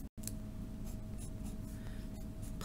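A pen writes out a math derivative on paper in short scratching strokes after a brief pause at the start, close and quiet, with no speech.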